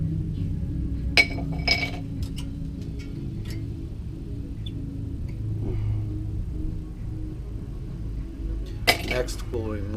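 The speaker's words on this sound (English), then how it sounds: "Now go ahead and remove your brake pads." Brake pads being pulled from the caliper of a 2003 Honda, a few sharp metallic clinks and rattles over a low steady hum, with a cluster at the start and another near the end.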